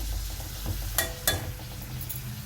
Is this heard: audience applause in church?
no